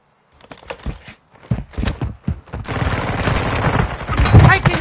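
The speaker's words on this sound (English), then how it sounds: "Taking effective fire!" Gunfire in Call of Duty Modern Warfare II: scattered shots early, then a dense, sustained burst of automatic fire with a heavy boom near the end, loud and close, with game voices calling out over it.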